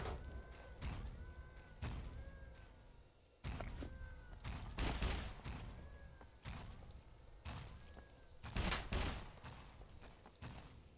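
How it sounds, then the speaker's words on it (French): Gunfire in the survival video game SCUM, a string of sharp shots with booming thuds at irregular spacing, some clustered in bursts, loud against a faint background. "Il tire sur moi là?"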